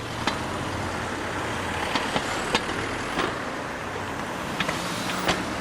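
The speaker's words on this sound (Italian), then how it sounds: "3 tombini evidentemente scarsamente aderenti al suolo che sobbalzano ad ogni passaggio di automobile provocando un rumore pressoché costante" Cars roll over loose, poorly seated manhole covers on a damaged street in Padova, each pass sending out a sharp clunk or rattle. Several clunks stand out over a steady layer of traffic noise.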